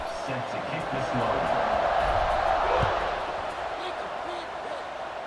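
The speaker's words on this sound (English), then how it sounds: "this crowd is buzzing after that last score" A stadium crowd buzzes and roars steadily in a college football video game, Purdue against Michigan State, swelling slightly in the middle, with a commentator's voice over it.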